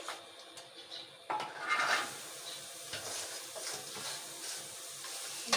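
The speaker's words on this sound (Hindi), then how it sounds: "सबसे पहले हम डेगची में प्याज ऐड करेंगे।" Onions go into a cooking pot (degchi) for an Eid mutton salan, giving a soft hiss and sizzle with light scraping and stirring clatter, fairly faint and steady.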